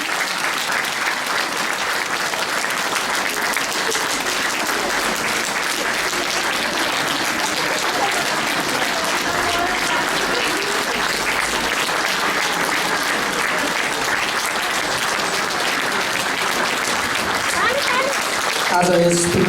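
A church congregation at a 25th anniversary celebration in Kathmandu applauds continuously, a loud, dense, unbroken roar of clapping that carries on alone for the full stretch with only a brief voice near the end.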